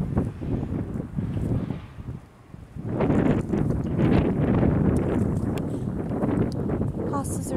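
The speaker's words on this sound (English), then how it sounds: "I'm sorry about the wind." Gusty wind buffeting the microphone outdoors in a springtime home garden, rumbling in uneven surges that ease briefly then swell again loud and steady.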